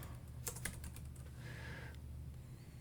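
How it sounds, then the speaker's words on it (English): A short burst of faint keystrokes on a computer keyboard, a few quick clicks close together followed by quieter background hum, no voices. "I want to type in here"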